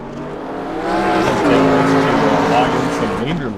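Race cars in a National Series race at the Lernerville track, engines droning and rising in pitch as they pass, loud and steady, with a commentator talking over them.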